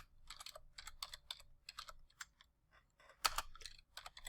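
Someone typing on a computer keyboard while drafting in AutoCAD, quick bursts of soft key clicks with brief pauses between them and one sharper clack, faint and close.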